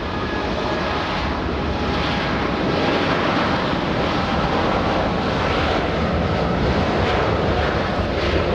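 A Lufthansa airliner at LAX roars steadily, a dense, continuous engine rumble with faint pulsing swells, heard alone without talk.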